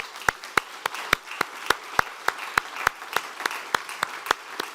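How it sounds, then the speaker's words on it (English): Sparse, evenly spaced claps from a conference audience thanking a panel on monetary policy, each sharp crack distinct against a quiet room, forming a slow steady rhythm with no talking. "let's give them a round of applause"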